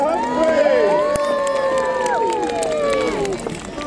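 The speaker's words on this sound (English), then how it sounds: "that's the biggest cheer you had all day" A crowd at a knight combat tournament at Cardiff Castle cheers and shouts loudly, with a sustained wave of voices and whoops lasting a few seconds before tapering.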